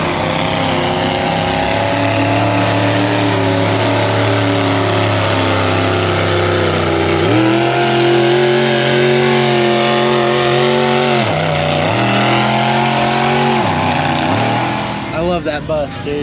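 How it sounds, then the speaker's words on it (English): VW bus fitted with an 8-cylinder engine at a muddy off-road event, a loud, close, sustained engine roar that climbs in pitch as it revs, dips briefly and revs again. "is a VW bus with 8 cylinders working in beautifully perfect unison"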